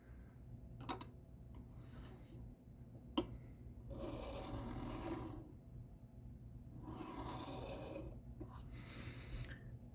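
Knife blade of S35VN steel on a ZT 0562 stroked alternately across a KME sharpening stone to deburr it, giving faint, soft rasping scrapes in slow repeated passes, with a couple of small clicks.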